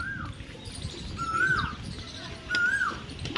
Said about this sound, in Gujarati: અત્યારે ખિસકોલા બોલે હે ને ત્યાં ખિસકોલા ચકલા ને એવું બધું બોલતું હોય જાડવામાં